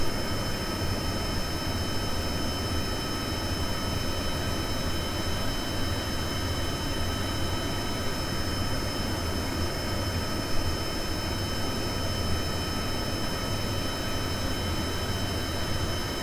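Four rocket engines on a craft in Kerbal Space Program roar in a continuous, loud, steady drone with a faint high whine, unbroken for the full stretch and with no talking over it.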